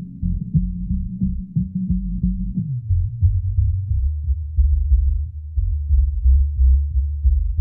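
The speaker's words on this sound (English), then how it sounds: "So I filter down the bass." A muffled, low bass line in a 90s-style hip hop beat thumps steadily with the top end filtered away, leaving a dark, throbbing pulse with no other instruments.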